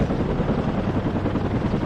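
AH-1F Cobra attack helicopters in the real-time strategy game WARNO, heard as a dense, steady rotor chop and engine drone that fills the whole stretch at close range.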